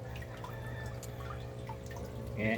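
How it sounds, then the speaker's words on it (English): Water flows and drips into a tub in a biofilter system, a low steady trickle under a constant hum, faint and continuous. "there's water coming through this tub"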